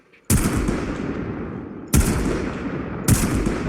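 Three heavy, booming sniper rifle shots in the Warframe video game, with the first two spaced apart and the third coming quicker, each ringing out in a long decaying tail, loud and close.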